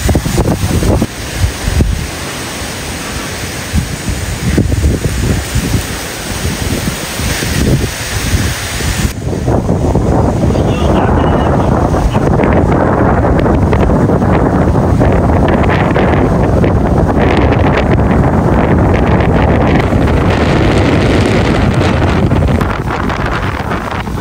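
Strong wind pushes dust along outdoors and roars into the microphone as heavy buffeting gusts. It is loud and continuous, harsher in the opening seconds and then a steadier broadband rush.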